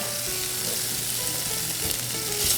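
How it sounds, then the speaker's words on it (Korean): Diced ham stir-frying in a pan until crisp, a steady close sizzle and crackle with faint stirring, no voices. "햄을 팬에다가 볶아주세요. 바싹."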